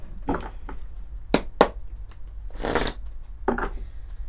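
Tarot cards being shuffled and handled, with several short papery riffles and flicks in irregular bursts, close and fairly soft, with no talk.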